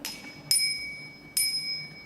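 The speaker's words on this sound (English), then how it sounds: "also have the bell." A toy bell rings twice, a bright metallic ding with a lingering tone, spaced under a second apart and close up in a quiet room.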